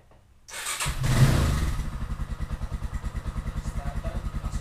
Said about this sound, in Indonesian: kita starter motor Scorpio nya gimana mesinnya, suaranya